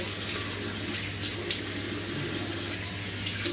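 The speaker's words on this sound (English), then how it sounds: "we'll splash the face with warm water" Water runs steadily from a tap into a sink, a continuous close hiss and splash with no pauses.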